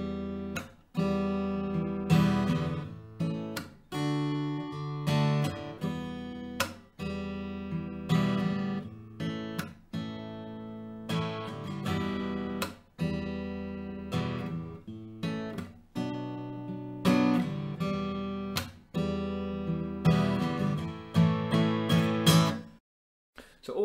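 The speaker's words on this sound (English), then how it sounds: "I'm just using picks of the string like we did in the verse, adding in some percussive hits" Fingerstyle acoustic guitar plays, picking individual strings with regular percussive slaps on the body mixed into a steady rhythm, close and continuous for over twenty seconds, with no voice.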